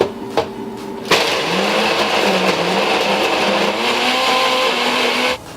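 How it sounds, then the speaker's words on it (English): A blender mixing a protein shake whirs loudly and continuously after a short start, its motor pitch wavering as it strains and gets stuck, then cuts off abruptly. "Then I put it into the blender, and what you're gonna hear is you're gonna hear it get stuck."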